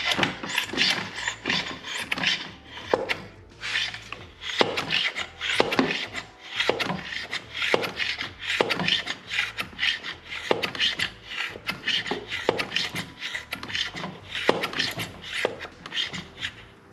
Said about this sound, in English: Now I'm going to go ahead and pump it up to about 10 psi.